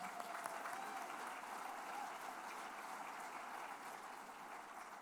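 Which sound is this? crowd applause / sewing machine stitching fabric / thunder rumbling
crowd applause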